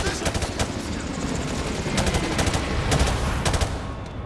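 Heavy gunfire in Call of Duty Modern Warfare 2: continuous loud automatic weapon bursts and rapid shots overlapping in a dense, nonstop barrage with rumbling combat noise underneath.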